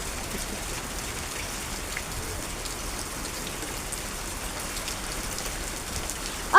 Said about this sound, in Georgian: ხა წვიმს.